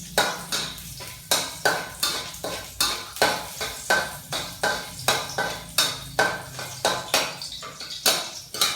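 Garlic frying in oil in a pan while a utensil scrapes and stirs it in a steady, repeated rhythm, close and clear, with a soft sizzle underneath and no talk.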